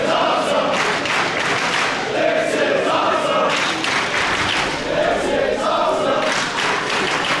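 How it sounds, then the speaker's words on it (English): A wrestling crowd at a DGUSA independent show roars and rallies, loud sustained crowd noise with swelling shouts and chants in waves, broken by a brief dip midway before building again. "The crowd now starting to rally behind Tozawa here."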